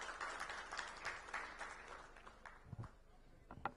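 A hall audience claps to welcome Deputy Chief Minister Arun Sao: faint, dense applause that rattles for a couple of seconds and then thins into scattered claps and murmurs.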